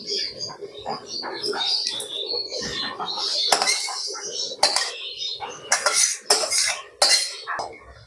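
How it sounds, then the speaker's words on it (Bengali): A metal spoon mixes cooked vegetable curry into soft boiled rice and lentils in a pot, giving close clinks and scrapes that come in uneven bursts, some of them sharp and loud. "তরকারিটাকে দিয়ে ভালো করে এইভাবে মিশিয়ে নেব।"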